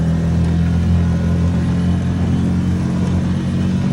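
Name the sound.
dinghy outboard motor revving under throttle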